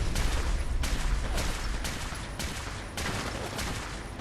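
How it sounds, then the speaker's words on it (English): Rapid gunfire in the Fallout 4 video game, fired into a crowd: a loud, steady run of sharp shots about twice a second, continuing without a break. "let's just keep firing into the crowd"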